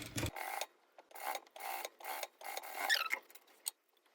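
Stitching a side pocket seam on sweatpants, a sewing machine runs in a series of short, close bursts separated by brief pauses, with no voices.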